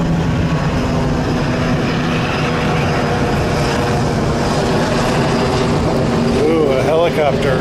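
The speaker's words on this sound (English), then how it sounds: "Helicopter." A helicopter flies overhead near a riverfront, its steady droning engine and rotor noise loud and continuous throughout, with speech faintly mixed in.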